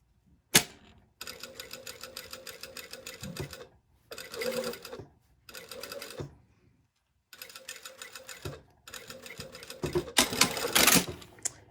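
Sewing machine stitching a shirt collar and facings in repeated bursts of rapid mechanical chatter, separated by short pauses, close and clear with no talk.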